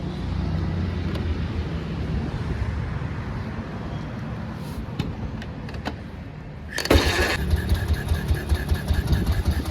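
A 1957 BMW R26 motorcycle with its original 6-volt ignition runs with a low rumble and a few clicks, then roars louder partway through, close by and without talking.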